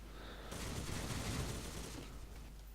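A rapid burst of automatic gunfire in the video game Skill 2 erupts after a short pause, sustained for about a second and a half before fading, somewhat distant and muffled.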